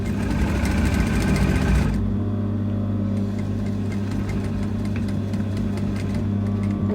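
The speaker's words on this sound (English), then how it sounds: "I'm now going to sew it." A sewing machine stitches stretched elastic onto cape lining with a steady, fast mechanical hum and rapid needle ticking, loud and close, with the pace shifting partway through.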